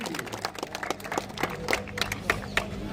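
Scattered clapping from spectators at a prize ceremony following a cricket match between Nawada and Youth Gaya Cricket Academy, irregular hand claps over a steady crowd murmur.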